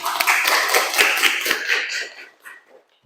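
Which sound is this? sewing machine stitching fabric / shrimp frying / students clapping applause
students clapping applause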